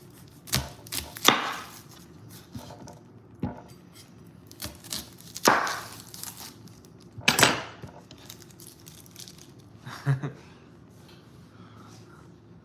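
Knife slicing onions on a cutting board, intended for caramelizing as a burger topping: several sharp, separate chopping strikes spaced irregularly with pauses between them, close and fairly clear over a quiet room background.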